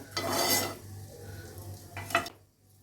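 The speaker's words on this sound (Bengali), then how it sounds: "এখন আমি তেলের মধ্যে 2 চামচ ঘি দিয়ে দিচ্ছি।" Ghee hitting hot oil in a pan while cooking Bengali-style paneer, a soft hissing sizzle with faint stirring scrapes, close and quiet, no talking.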